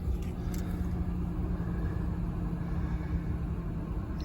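A 2016 Nissan Rogue SV AWD with about 49,800 miles idles steadily, a low continuous rumble heard close by with no voices.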